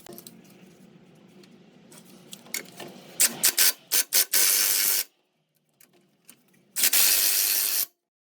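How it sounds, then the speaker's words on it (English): An impact gun on its low setting drives splined lower ball joint bolts on a Hyundai Santa Fe, with a few quick hammering bursts followed by two longer loud rattling runs separated by a pause, close and without talk. "we are just going to pull this down with our impact gun, and it'll pull those through and tighten them up"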